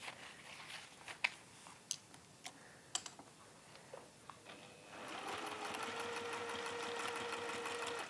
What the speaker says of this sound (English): and then top stitch 2 lines down